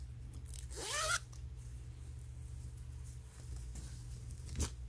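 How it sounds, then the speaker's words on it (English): A zipper on the cuff of an Adidas track jacket is pulled open in one quick rasping run, close and crisp against a quiet, hushed background. "You can unzip it."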